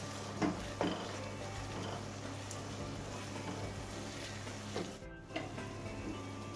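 Mutton kidney and liver fry with garam masala in a pan, giving a steady close sizzle. A few scraping stirs of a spoon against the pan are heard, with no talking.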